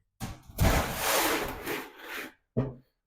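A guillotine shear works 16 gauge Zintex steel sheet for a Rover 220 Turbo Coupe sill repair, a loud close grinding scrape lasting about two seconds, followed by a short separate burst.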